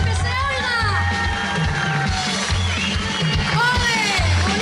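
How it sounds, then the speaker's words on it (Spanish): A large crowd cheers, whoops and shouts loudly for the drummer at an outdoor festival concert in Pego, 2015. The roar is continuous, with a thumping bass line underneath. "Quiero que le deis un fuerte aplauso, que se oiga."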